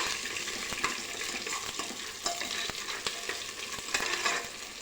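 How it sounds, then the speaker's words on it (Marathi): Peanuts roasting in a pan with browned onion for masale bhat, a continuous soft sizzle with occasional stirring clicks and scrapes, close and fairly quiet. "यामध्ये आता आपण हे शेंगदाणे घालून घेऊ। शेंगदाणे छान असे भाजून घेऊयात।"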